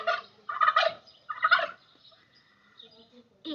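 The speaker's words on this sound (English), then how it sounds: "Turkey." Turkey gobbling, two bursts of rapid rattling gobbles up close, followed by quieter trailing calls.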